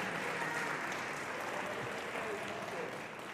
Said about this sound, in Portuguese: Alguém pode aplaudir ao Senhor aí?